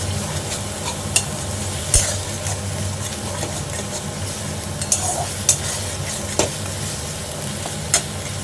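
Mashed jackfruit seeds fry in oil in a pan, giving a constant sizzle while a spatula stirs and scrapes, with a few sharp metallic taps.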